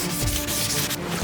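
Soaked sandpaper is worked wet over a repainted car body panel on a Honda Civic FD2 Type R build, making a short, close, steady rasping rub with slight back-and-forth swells.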